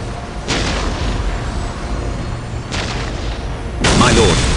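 Ork artillery in the strategy game Dawn of War: three heavy booming blasts, spaced a couple of seconds apart with the last one loudest, over a constant low rumble while a voice speaks in the background.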